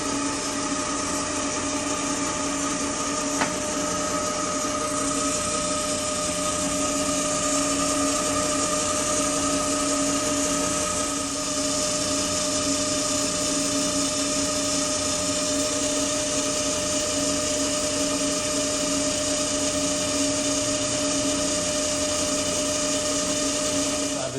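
Machining a custom turbo part for a Can-Am X3, a loud continuous steady whine of a machine tool cutting with a sustained high tonal hum and grinding hiss that runs unbroken throughout, close by.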